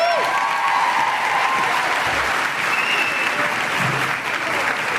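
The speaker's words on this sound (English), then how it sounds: "Please give her a round of applause." Audience applause at a high school spring choir concert, a steady dense wash of clapping from a large crowd filling the whole stretch without letup.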